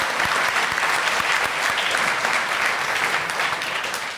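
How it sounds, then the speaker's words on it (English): Audience applause at a live science festival show, steady dense clapping from a large crowd held at an even loudness for the whole stretch, tapering only slightly at the end. "Give them a round of applause"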